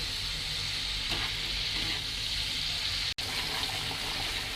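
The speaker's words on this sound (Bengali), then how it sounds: "আমি এভাবে 2 মিনিটের মতো আমগুলোকে এখানে ভেজে নেব মশলার সাথে" Raw mango pieces fry with spices in a pan, giving a dense, loud, continuous sizzle with a watery hiss and a faint stirring scrape, close up with no talking.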